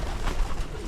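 Racing pigeons coo in a loft, a soft, low, murmuring burble filling the short moment at close range.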